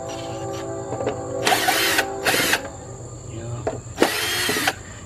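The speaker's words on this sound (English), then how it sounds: "but I got me a cordless drill here." A cordless drill whirs in three short bursts removing screws from a 2005 Chrysler Town and Country, near and loud, with faint mechanical clicks and background hum between them.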